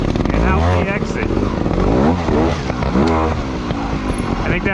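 A trials motorcycle rides through a section at a local event, its engine rising and falling with short throttle blips while someone talks over it close to the microphone.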